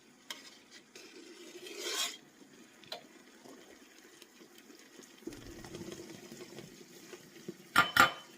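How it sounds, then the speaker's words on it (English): Spoon scraping foam from butter melting into ghee in a pot, with intermittent metal-on-pan scrapes and clinks, a couple of sharper bursts, over a low simmering boil; close and fairly quiet, no talk. "all I'm doing is scraping off that foam"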